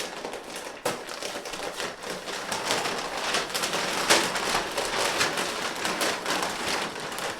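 Crinkly brown paper wrapping is pulled open around a Pearl 830 cymbal stand fresh from its box, a busy run of close rustles, crackles and sharp taps with no talking.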